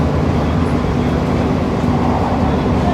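An AC local train runs non-stop at about 100 km/h between Kalyani and Chakdaha, a loud, dense, unbroken rumble and rush of wheels and air heard from inside the carriage.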